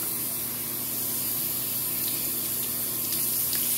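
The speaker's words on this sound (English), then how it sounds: "pour some new fresh, not soapy water in because we're using the sink" Fresh water running from a tap into a sink, a steady close hiss and spray with a faint hum, unbroken throughout.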